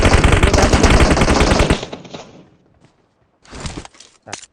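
Automatic gunfire from the battle royale game PUBG Mobile: a loud, rapid burst of machine-gun shots lasting under two seconds, followed by a pause and then two shorter bursts.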